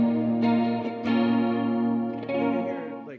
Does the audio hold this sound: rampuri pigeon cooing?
no